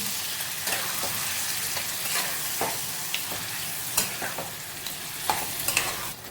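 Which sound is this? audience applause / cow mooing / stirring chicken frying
stirring chicken frying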